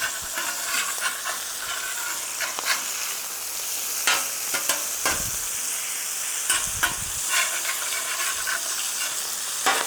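Smash burgers of ground brisket sizzling on a Vevor griddle: a loud, constant hiss with scattered sharp scrapes and crackles from a spatula working the patties.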